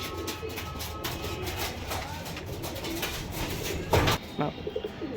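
Pigeons coo and rustle close by in a loft, including red-eyed hen birds, a steady murmur of low calls with a few louder flutters near the end.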